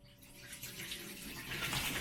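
Water from a bathtub shower runs steadily nearby, a broad rushing hiss that swells louder toward the end, with no talk.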